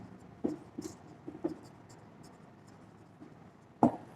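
Writing on a board during a physics lecture on particle statistics: a few short, faint scratchy strokes scattered over four seconds, ending with one sharper tap, in a quiet room with no talk.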